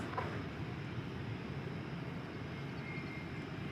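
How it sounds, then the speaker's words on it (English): An Airbus A321 airliner at Dallas Fort Worth Airport gives off a steady, distant jet engine roar, low and even throughout, with no voices. "you see Flight 1890, an Airbus A321, on its way to Las Vegas in Nevada"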